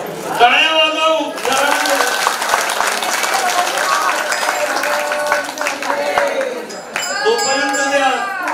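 A devotional gathering at a religious sermon joins in rhythmic clapping, a steady patter of many hands spread through a hall, with voices singing or chanting over it at the start and end.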